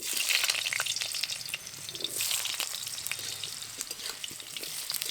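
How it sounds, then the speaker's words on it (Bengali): Potato pieces fry in hot oil in a Bengali kitchen, giving a dense, steady, close sizzle that holds at an even loudness throughout, with faint watery crackles on top. "আলুগুলো ভেজে নেব।"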